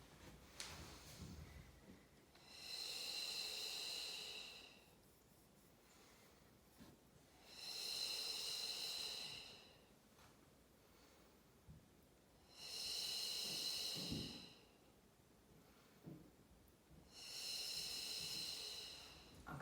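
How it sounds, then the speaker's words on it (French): Slow, steady breathing during a standing balance exercise, four long airy breaths spaced about five seconds apart, each swelling and fading, close and fairly quiet with no talking. "Avec la respiration."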